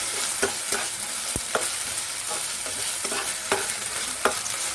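Onions with ginger garlic paste fry in a pan over a soft continuous sizzle, while a spoon stirs and scrapes in about half a dozen sharp, separate knocks spread across the few seconds, with no talking.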